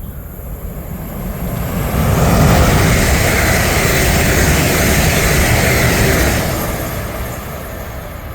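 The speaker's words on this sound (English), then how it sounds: "passing through now is a pair of London Western Rail Class 350s" Two London Northwestern Railway Class 350 electric multiple units pass at speed through Berkhamsted, a broad rumbling roar that swells over the first two seconds, holds steady, then fades away toward the end.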